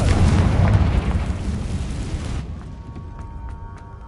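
A Confringo fire spell blast from the video game Hogwarts Legacy: a loud, booming explosion that rumbles and fades over a couple of seconds into quieter ringing tones.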